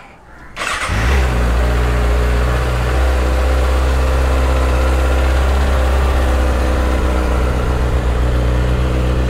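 A superbike is started up, a brief crank catching within the first second, then the engine settles into a loud, steady, close idle with a deep rumble that holds for the rest of the clip.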